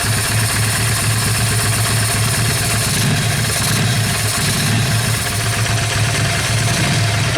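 A Yamaha XV 500 cafe racer motorcycle engine idles steadily close by, with a slight lift in pitch as the throttle is lightly blipped, its low pulsing beat continuing throughout with no talking.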